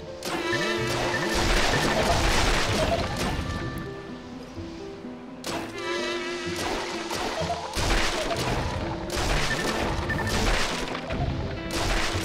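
Crossbow shots in the Link's Crossbow Training video game fire in loud bursts, each ending in crashing impacts. Several rounds are spaced a few seconds apart over busy game effects.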